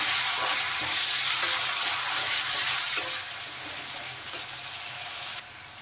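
Spices and yogurt for a duck egg curry sizzle and crackle steadily in a pan, with occasional soft scraping stirs; the frying quiets slightly toward the end.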